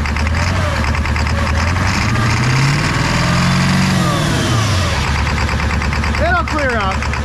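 Ford 7.3 Powerstroke diesel engine fast idling after a cold start in snow, a loud, close, steady rattling clatter with rising and falling drone as the revs shift, a brief squeal near the end.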